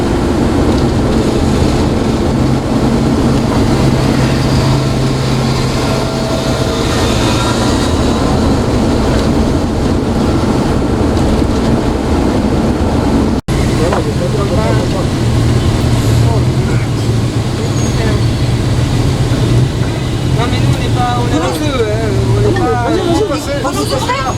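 Motorcycle engines drone and rev loudly and continuously at a June 2018 protest by angry French bikers, mixed with crowd babble and traffic noise.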